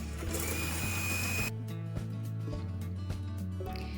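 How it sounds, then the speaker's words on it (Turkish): An electric mixer whirs steadily as it whisks cake batter with milk just added for a hedgehog cake, a loud high buzz at first that drops to a lower, softer motor hum for the rest. "şimdi yine aynı şekilde çırpıyorum"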